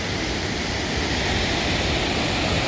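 Provo River in the Uinta Mountains running high with snowmelt, a steady loud broadband rush of flowing water, close and continuous throughout with no voices.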